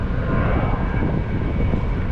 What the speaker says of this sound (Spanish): me pondré a contar aviones ahora